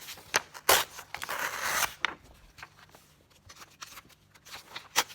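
Paper pages of a book torn by hand for an altered-book craft, a few quick crisp rips and longer rasping tears with softer paper rustles between, close and moderately loud, with no talking.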